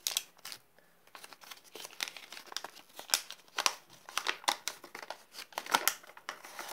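Paper and ribbon crinkle and rustle as a parcel is opened, with a steady run of close, crisp crackles and short sharp bursts, and no talking.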